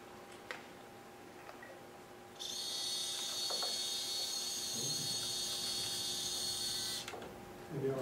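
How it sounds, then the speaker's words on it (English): Electric motor of a robot donkey cart running with no electronics attached, giving a steady high whine that starts suddenly, holds for about five seconds, then cuts off over a quiet room. "I don't have any electronics hooked up to the motor, but I can run the motor."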